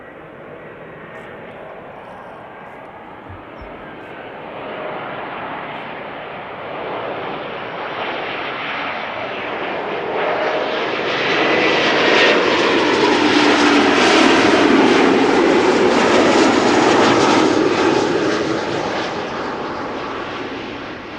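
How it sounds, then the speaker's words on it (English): An Embraer 195 long-range jet airliner, about ten years old, arriving at Amsterdam Schiphol: a broad engine roar that builds steadily as the aircraft draws close, peaks loud and near overhead, then eases slightly as it passes. "Regular Embraer 195, 1 hour 42 minutes on the way."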